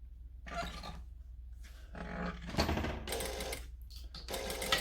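A sewing machine joins two short straight fabric edges in several close, uneven bursts of stitching separated by brief pauses, with loud stop-start runs throughout.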